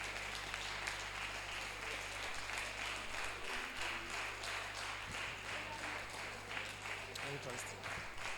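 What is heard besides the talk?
audience applause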